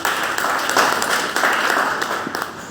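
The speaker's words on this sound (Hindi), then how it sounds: "तालियां बजा दीजिए।" An audience applauds loudly and continuously, a thick even roar of many hands clapping close by for the whole stretch with slight swells.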